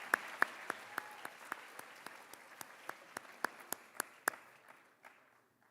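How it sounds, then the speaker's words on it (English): Applause at a high school athletic awards ceremony for winter all-conference athletes: scattered, fairly sparse claps from a modest indoor audience with sharp individual hand claps standing out, tapering off near the end. "Join me in a round of applause for our winter all-conference athletes."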